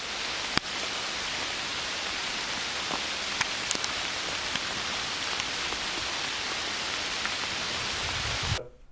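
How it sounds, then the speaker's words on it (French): Hail falls steadily as dense, even pattering on a surface for several seconds, with a few sharper ticks of stones hitting near the mic, then it cuts off abruptly. "Ça grêle."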